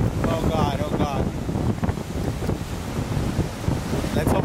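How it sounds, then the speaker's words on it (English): Wind gusts roar during Hurricane Ida in New Orleans, a dense buffeting rush with microphone wind noise, along with a brief indistinct voice near the start. "Got a powerful gust right now, powerful gust."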